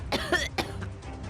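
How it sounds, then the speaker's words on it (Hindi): A person coughs two or three times in quick, harsh bursts, close and fairly clear, with a short throaty pause between them and no talking. "ये खांसी तो रुकने का नाम ही नहीं ले रही है।"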